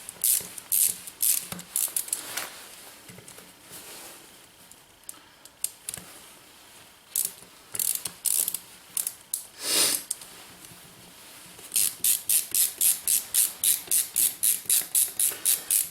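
Barrel being undone on a SIG MCX rifle during a caliber change, a run of sharp metallic clicks and ratcheting bursts, close and fairly loud, ending in a fast rhythmic series of clicks.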